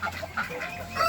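Chickens on a farm cluck in soft, overlapping calls, a steady cluster of close birds with ducks nearby and no talking.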